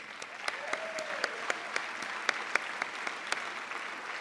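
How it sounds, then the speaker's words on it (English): Steady applause from a gala dinner crowd, a continuous wash of clapping with some sharper individual claps standing out, sustained for several seconds. "I really think we ought to give them a big round of applause"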